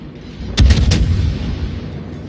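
Warship main guns fire in the World of Warships naval combat game, a quick cluster of about three heavy booms up close, followed by a rumbling low decay.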